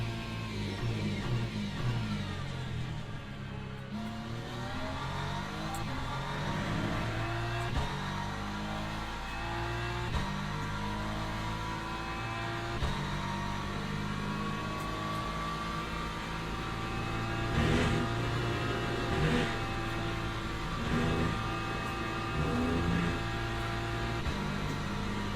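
A BMW race car engine in the Le Mans Ultimate racing game holds a steady, smooth droning whine that shifts pitch gradually through gear changes and corners, constant and moderately loud throughout.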